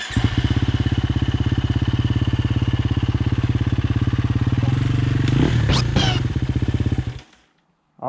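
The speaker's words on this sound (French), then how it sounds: "Milan, fais pas des petits coups de gaz, accélère d'un coup, il part." Enduro dirt bike engine held at a hard, loud rev with a rapid pulsing beat, rising briefly with clattering before cutting out abruptly into near silence, then restarting at the very end.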